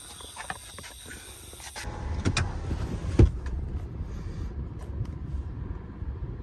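An Acura TL engine fitted with an aftermarket air intake starts up: a brief squeal, then a low, steady idle rumble close by, with no one speaking.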